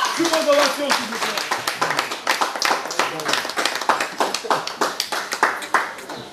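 An audience applauds a stylist at a stage event, a dense, loud burst of many hands clapping that runs steadily throughout, with voices cheering and talking underneath.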